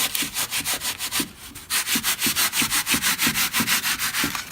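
Utility blade sawing through closed cell spray foam insulation in a bus build, a steady run of short, close scraping strokes with a brief pause partway through.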